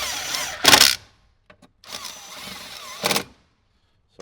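A power tool drives 10mm bolts into the dash of a 2015–2018 Jeep JK Wrangler during a speaker install, giving two short whirring bursts close by, separated by quieter handling noise, with no talk.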